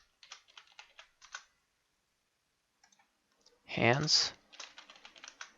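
Computer keyboard typing while renaming items in ZBrush: quick bursts of close, crisp key clicks separated by pauses, with a short spoken word breaking in partway through.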